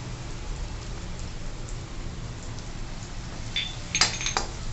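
Crushed garlic dropped into hot oil for a methi batata fry gives a steady soft sizzle throughout, with a few metallic clinks of a utensil against the pan near the end.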